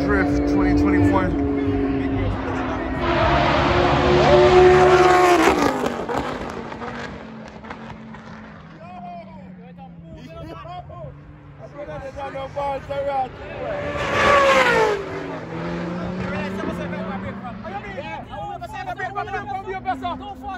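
Formula Drift race cars drifting at a 2021 event, engines roaring in loud sustained surges with crowd babble and voices throughout, the loudest bursts of revving and tire noise peaking twice.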